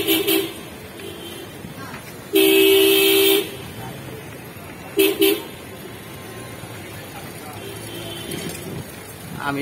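Car horns honk in a jammed street at the Old Paltan intersection in rain-soaked Dhaka, with one long loud blast and a shorter toot over steady traffic rumble and background voices.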